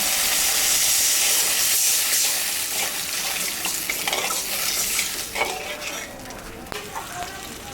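Water splashed into a sizzling pan sets off a loud burst of hissing steam, which gradually settles into an uneven, crackling sizzle with a few sharper pops near the end.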